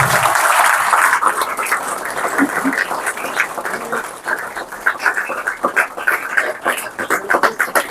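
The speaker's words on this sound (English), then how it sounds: "I think this calls for a big round of applause" Applause from a book-release audience fills the opening, then fades into scattered, uneven clapping with background noise.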